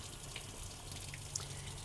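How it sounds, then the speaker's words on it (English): Water runs steadily from a sink tap in a camper van, fed by an onboard water pump, giving a soft continuous hiss with a low pump hum beneath it. "You can turn your water pump on."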